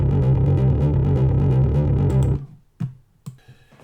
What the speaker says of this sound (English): That one goes into a couple of the Omnisphere distortion plugins, the Foxy Fuzz and the Ultra Chorus